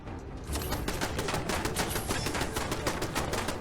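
Enemy gunfire in Fallout 4, a rapid, continuous burst of automatic shots rattling in fast rhythm after a brief quiet start, loud and close, with no talking.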